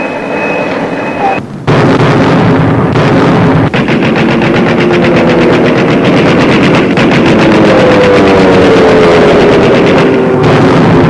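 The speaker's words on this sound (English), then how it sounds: "Opening guns of the American offensive in the South Pacific." Naval guns fire in a 1942 sunrise attack opening an American offensive in the South Pacific. The firing is loud and continuous, a rapid rattling barrage on an old, saturated recording.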